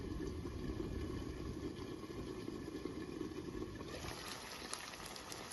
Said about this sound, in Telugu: ఉడుకుతూ ఉంది.